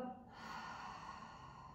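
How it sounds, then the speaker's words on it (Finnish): A long, steady exhale through the mouth during pregnancy yoga, soft and breathy, heard close and alone against a quiet room. "Ja uloshengitys suun kautta."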